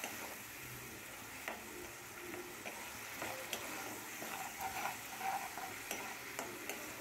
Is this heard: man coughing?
no